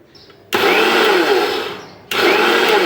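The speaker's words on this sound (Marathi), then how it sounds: "मिक्सरमधला फिरवून घेते आहे" A mixer grinder blends niger seed chutney with cumin powder and salt, roaring loud and close in two bursts: a long whir that slows and stops, then restarts after a short pause.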